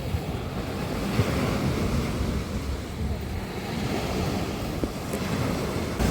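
Stormy sea surf rolls and crashes at Langeron beach in Odesa, a continuous loud roar of breaking waves with wind buffeting the microphone and occasional faint voices in the background.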